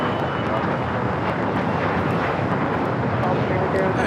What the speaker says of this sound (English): It's a Gulfstream 4.